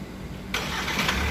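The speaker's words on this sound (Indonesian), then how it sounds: "menstarter mobil dari luar" A Hyundai Santa Fe 2.2 CRDi diesel, 2021 facelift, starting remotely from outside the car: a sudden cranking catch about halfway through, then a steady close diesel idle with no talking.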